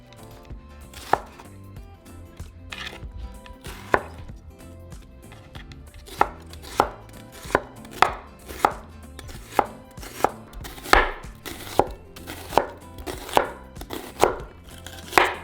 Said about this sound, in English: And our onion we're going to cut into half moons.